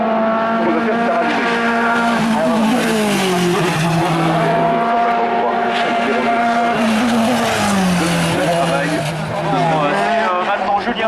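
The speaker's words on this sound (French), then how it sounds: "C'est maintenant Julien Boss qui passe" A race car powers up a hill climb course at Hébecrevon, engine loud and near with rising and falling revs through gear changes, while a French commentator talks over it.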